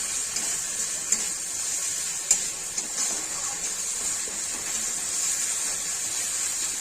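Garlic fries gently in a pan for an egg omelette curry, giving a steady, soft sizzling hiss with a few faint pops and clicks, close and alone without talk.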